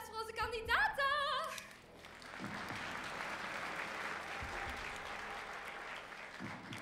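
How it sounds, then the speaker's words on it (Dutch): A game-show studio audience applauds for the contestants, a moderate, even wash of clapping that follows a brief musical sting and lingers at a steady level under faint background sounds. "Een applaus voor onze kandidaten."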